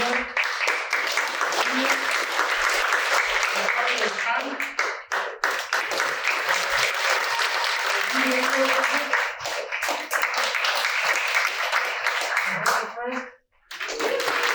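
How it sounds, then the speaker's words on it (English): Audience at a ceremony for the return of Digawututklh applauds in sustained, fairly loud clapping, interrupted by brief pauses and a sharp dip near the end, with talk and a voice faintly mixed in. "I want to give them a bigger round of applause"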